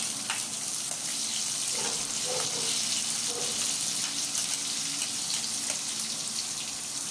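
Garlic frying in hot oil for pakbet, giving a steady, soft sizzle with faint crackles and spits, close up and continuous throughout.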